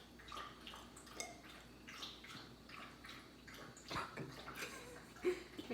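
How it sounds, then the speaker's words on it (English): Small measured amounts of water trickle and splash into a cup in a series of faint, close pours with soft drips and gurgles, under quiet background noise. "we're going to pour that into the glacier's cup"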